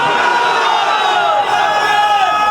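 A congregation in a mosque chants slogans together, a dense wall of massed voices rising and overlapping continuously and loudly throughout, with no pauses.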